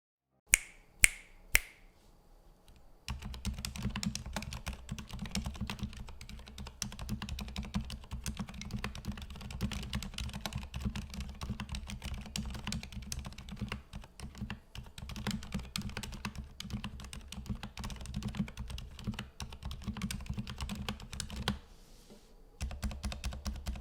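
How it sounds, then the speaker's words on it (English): A few crisp clicks, then steady, fast typing on a Mountain Everest Max mechanical keyboard with pre-lubed Cherry stabilizers, close and clear, with a dense clatter of keystrokes and a brief pause near the end. "the Everest comes with pre-lubed cherry stabilizers that reduce the noise and rattle to a minimum"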